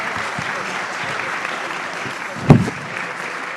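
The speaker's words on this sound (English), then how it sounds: "let's give them a round of applause and a congratulations" A crowd at a brunch event breaks into steady applause, a dense wash of clapping with one sharp louder clap near the end.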